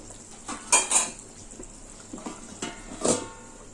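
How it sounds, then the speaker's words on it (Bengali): Metal clinks and clatter as a lid goes onto a pot of fish curry cooking on the stove, several sharp taps and scrapes, close and fairly loud, with no voices. "এবার 3 মিনিটের জন্য ঢাকা দিয়ে দেবো"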